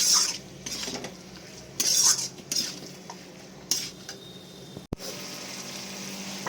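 Goat fat and trimmings being stirred and fried with spices in a pan over high flame, with intermittent metal spoon scrapes and clinks over a low, quiet sizzle.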